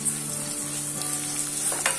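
Chopped onion with green chillies sautéing in a pan, giving a continuous close sizzle with a soft scrape of stirring near the end.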